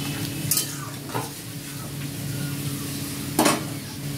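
Chicken balls for chilli chicken sizzle in a pan of sauce as a spoon stirs and scrapes, with a few sharp clinks against the pan over a steady frying hiss.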